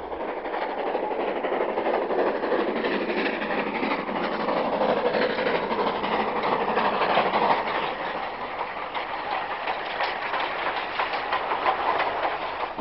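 A long 11-coach steam train, double-headed by locomotives Dinmore Manor and 76079, rumbles past steadily westward from Willerton, wheels clicking rhythmically over the rails under a continuous heavy roar of the engines working.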